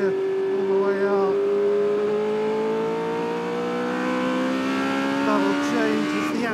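The 1982 Williams FW08 Formula 1 car drives on track, its engine howling continuously near the mic with a rising and falling pitch as it pulls through the gears, while the driver talks over it.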